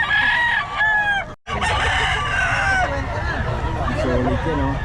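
Hatch gray gamefowl roosters crow loudly and repeatedly at a seller's stall in Bocaue, overlapping with clucking chickens and people talking nearby amid a busy market hubbub.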